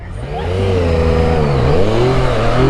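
A big motorbike engine revs loudly and steadily while riding through Nottingham at night, its pitch dipping briefly and then climbing again in a sustained roar.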